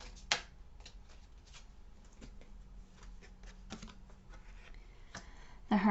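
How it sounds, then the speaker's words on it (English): Tarot cards being shuffled and drawn, quiet close clicks and flicks scattered across the clip with a brief louder riffle near the end, heard alone without talking. "Let's get you some more cards."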